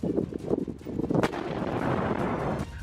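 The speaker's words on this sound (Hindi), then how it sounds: "हर तरफ सिर्फ गोलियों की गूंज और तोप के गोलों की आवाजें सुनाई दी।" Battle in a desert area during a war, with gunfire and artillery shelling: several heavy, booming shots in quick succession, then a sustained rumbling roar, loud and unbroken.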